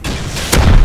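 A tank explodes in Rust at a launch site, a short close boom that hits hard and keeps rumbling with deep low-end weight to the end of the brief moment.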